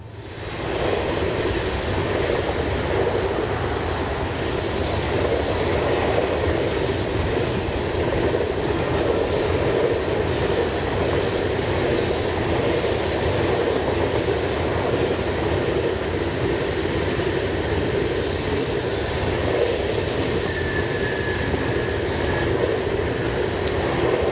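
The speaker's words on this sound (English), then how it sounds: "heading along the BNSF tracks are 9268 and 5833 on a westbound unit coal train." A long westbound BNSF unit coal train rolls past steadily, a continuous rumbling roar with clanking rail noise sustained throughout, fairly close.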